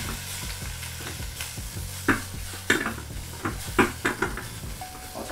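Shrimp shells for a Spanish seafood paella stir-fried in olive oil in a pan, a steady close sizzle broken by scraping stirs and clacks of a utensil against the pan, with no talking.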